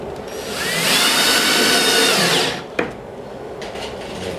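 A power drill drives a number 8 1.5 inch screw into a wooden five-board bench, a loud whining motor that rises and holds for about two seconds, then stops with a sharp click.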